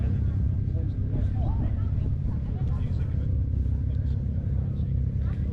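Fordson Power Major tractor with its standard Fordson 4-cylinder engine idling at a show, a steady low throbbing rumble heard close by with faint voices in the background.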